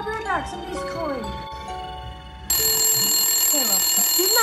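A home telephone rings with a repeated electronic tone, then turns brighter and louder partway through, close by, while children talk over it.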